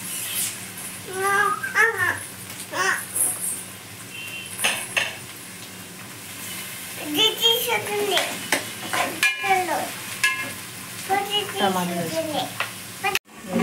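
Onions and tomatoes cook in a pan for pav bhaji, a low sizzle under intermittent talk, with spoon scrapes and clanks against the pan and a sharp knock near the end.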